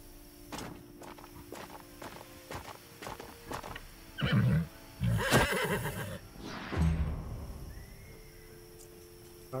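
A horse in the video game Wartales whinnies loudly several times, neighing in bursts over a faint rhythm of hoofsteps, with no talk over it.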